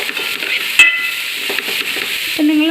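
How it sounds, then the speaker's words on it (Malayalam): Potatoes are stirred into vegetable fried rice in a pan, making soft scraping and shuffling stir sounds against the metal, close and continuous for a few seconds with no speech. "ഇത് നമുക്കതിലേക്ക് ആഡ് ചെയ്ത് കൊടുക്കാം. അപ്പോൾ നമുക്ക് നല്ലപോലെ മിക്സ് ചെയ്ത് കൊടുക്കാം."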